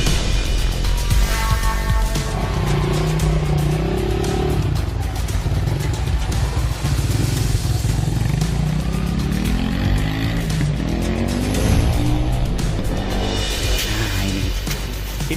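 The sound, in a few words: motorcycle said to run on water fuel, test ride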